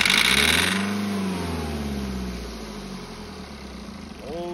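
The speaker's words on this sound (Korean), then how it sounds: "오, 노킹 소리." A BMW 520d F10 diesel engine is restarted after an intercooler cleaning, having earlier run away to the redline. It gives a loud, close rev that sags into a rough, uneven idle and swells again near the end.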